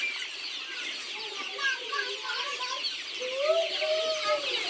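Native country chickens cluck continuously inside a farm shed, several birds calling over one another in short overlapping notes against a steady close hiss of barn noise.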